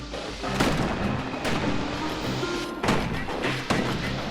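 Guns fire from a security skiff in the video game Bastion, a series of loud, sharp booming shots at irregular intervals over a dense, continuous game soundscape.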